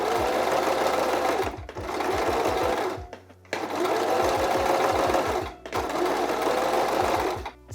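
A sewing machine top-stitches folded-over binding on a homemade monokini swimsuit, running loud and close in three long continuous passes with brief pauses between them.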